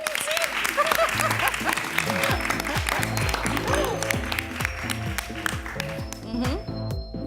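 Audience at a Women's Day event applauding warmly, sustained close clapping for several seconds with voices speaking and calling over it before it thins out.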